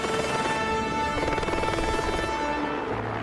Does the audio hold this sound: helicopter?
yes